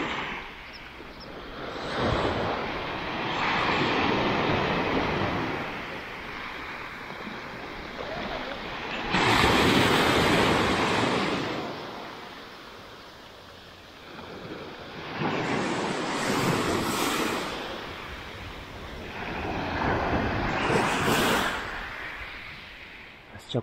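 Sea waves and surf on the Tuscan riviera swell and break in slow, rolling surges every few seconds, loud and close, with steady wind buffeting the microphone between crests.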